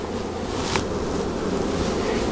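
Honey bees buzzing around an open hive during a warm-day hive check, a steady soft hum that fills the whole stretch with no talk, with a brief brighter swell near the middle.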